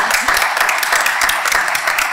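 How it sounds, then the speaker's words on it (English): Steady applause from a crowd at a town meeting, dense clapping filling the room without a break. "So I'd like a round of applause for Rowley"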